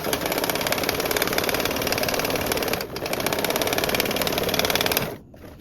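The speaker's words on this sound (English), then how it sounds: "So we'll sew 1/8 of an inch from the bottom edge, and we'll come back and sew 1/4 of an inch from the bottom edge" Sewing machine running long basting stitches along a fabric edge for gathering, a rapid even mechanical rattle that pauses briefly, resumes, then stops.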